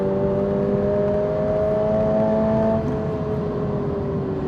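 A Toyota GR86 sports car engine drones steadily at high revs on a track, a smooth sustained whine with shifting tones, fairly loud and close, no voices.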